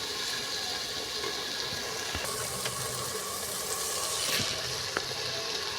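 Country chicken pieces added to frying masala for a curry, giving a steady broad sizzle with a few sharper stirring clatters, close and continuous without speech.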